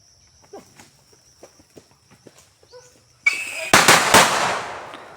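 Firecrackers set off in gu-ud bamboo: after soft scattered ticks, a sudden loud burst erupts into crackling, with two or three sharp, close bangs ringing out in quick succession.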